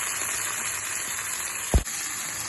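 Leftover chicken frying in hot oil in a pan gives a steady, close sizzle that holds evenly throughout, broken once by a short thump near the end.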